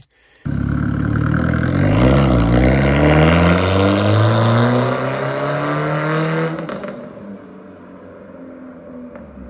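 A Mark 1 Ford Ka engine with a loud custom exhaust roars up through the revs and holds a harsh, throaty exhaust note for several seconds before backing off to a quieter rumble.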